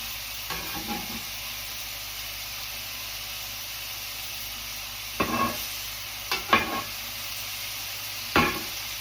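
Onions fry beneath beef burger patties on a hot griddle, giving a steady close sizzle throughout, broken by a few brief scraping or pressing sounds from a spatula.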